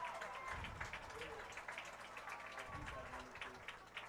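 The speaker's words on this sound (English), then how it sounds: "hyping up the crowd and having them applaud Thaddeus as he's being taken away on the amb" Crowd at a high school football game, Prescott versus Greenway, applauding an injured player as he is taken away by ambulance; fairly faint, steady clapping from a distance, with voices mixed in.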